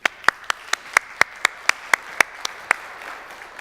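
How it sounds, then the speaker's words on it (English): Applause from a conference audience at an MWC 2019 event, thanking the speakers: a steady run of about a dozen evenly spaced sharp claps over a soft crowd wash, moderately loud and without speech. "Let's give a round of applause to my speakers."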